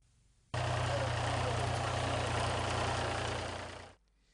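A farm tractor engine starts up abruptly and runs with a steady low rumble for a few seconds, then cuts off, heard close and loud with no talking.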